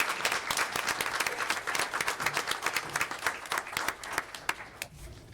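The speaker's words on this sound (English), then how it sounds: "So round of applause for Ms. Leah Ann Bolton." An audience claps at a school board meeting, dense and fairly close, with individual claps audible in quick succession, tapering off toward the end with a little murmur.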